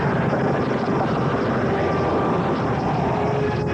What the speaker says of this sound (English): Meanwhile, training continues in a hot new attack helicopter.